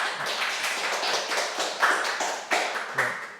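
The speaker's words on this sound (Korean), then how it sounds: "박수로 맞이하도록 하겠습니다" A lecture audience claps for a few seconds to welcome the speaker, steady applause from a modest crowd in a hall with a few louder claps near the end.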